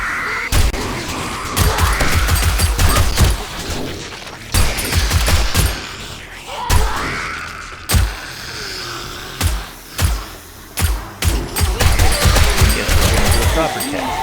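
Automatic gunfire from the creative-mode test gun in 7 Days to Die, loud rapid bursts repeating across the span with brief pauses, mixed with other game noise.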